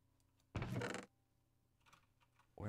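Computer keyboard keys clicking during a Minecraft gaming session, a short dense burst of typing followed by a few faint scattered clicks and the start of another burst.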